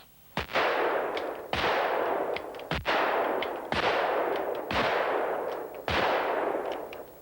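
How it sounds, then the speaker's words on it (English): A weapon fires wildly in all directions in a movie scene, about six loud, heavy gunshots spaced roughly a second apart, each trailing a long rumbling echo. "their mad minute, where they relieve tension by firing wildly at an imagined enemy in the jungle"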